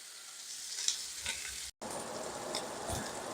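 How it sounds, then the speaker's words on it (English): A boneless ribeye steak searing in hot olive oil, a bright continuous sizzle with a few soft stirring bumps and a momentary dropout midway, no talking. "I'm going to put this right in here and give this a good sear."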